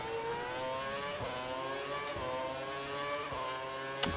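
Formula 1 race car engine from the PC racing game F1 2012, a steady high-pitched whine with rising and falling pitch through gear shifts, loud and continuous with a brief sharp burst near the end.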